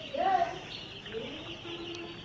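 Chickens on a poultry farm with four-day-old chicks, one clear cluck followed by softer peeping and low clucking, fairly quiet and near.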